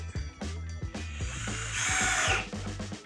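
A DeWalt multi-head driver whirs and ratchets while driving fasteners, close up, with a rising buzzing run of the motor mid-burst among short mechanical clicks.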